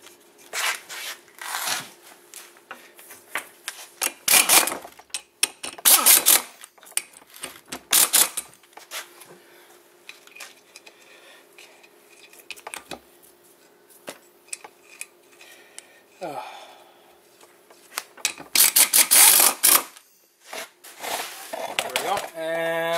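Bolts are fastened into the rotor on a Honda steering knuckle with a ratchet, producing bursts of rapid clicking and tapping in several separate runs, close and fairly loud, with quiet handling noises in between.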